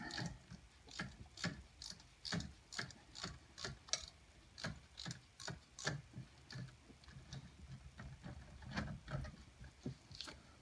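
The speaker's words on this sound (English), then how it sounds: "now we can reach down in here and get this spark plug out" Socket wrench ratcheting as it loosens a spark plug on a 2009 C6 Corvette LS3, a run of close, quiet clicking bursts in a fairly regular back-and-forth rhythm, no talk.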